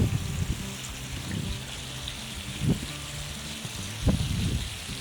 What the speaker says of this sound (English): The waterfall from the top pond.